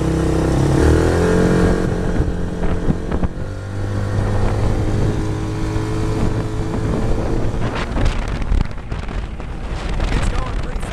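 A small 150cc UTV engine with a burly exhaust idles roughly, then pulls away with a loud, rumbling drone that holds steady, punctuated by a few knocks and clunks toward the end.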